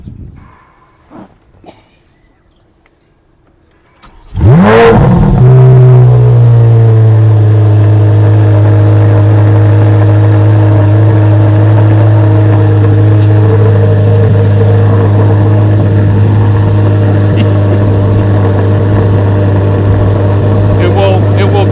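A Corvette's engine cranks and catches on a cold start, then settles into a loud, steady, rumbling idle close by that holds for about seventeen seconds, with brief sounds and faint voices before it starts.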